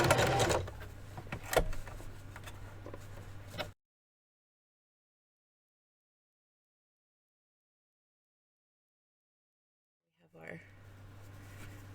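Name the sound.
sewing machine doing a straight top stitch on a Barbie dress bodice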